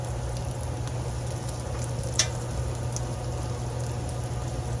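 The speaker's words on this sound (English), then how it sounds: "Potatoes are cooking." Potatoes fry in a pan with a soft, steady sizzle and faint crackle, a low constant hiss under a quiet hum, with one small sharp pop partway through.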